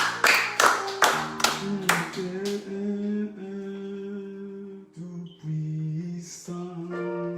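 A church congregation claps in a quick run of sharp, close claps, then the clapping gives way to sustained sung or chanted tones with voices.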